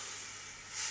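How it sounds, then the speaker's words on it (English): Red wine bubbling and hissing in a hot pan over caramelized venison juices, a steady close fizz that swells briefly near the end. "So we want to let that bubble then"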